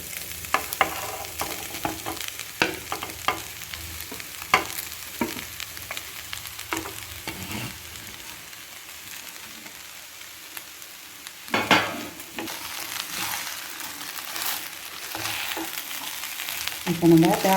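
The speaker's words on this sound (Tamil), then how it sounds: "நெல்லிக்காய் நல்லா வதங்கிச்சு. இப்போ நம்ம சாதத்தை தொடங்கிட்டோம்." Cooked rice stirred into sautéed gooseberries in a pan, with a steady low sizzle broken by repeated scraping and tapping of the spoon. The stirring is busier at the start and again near the end.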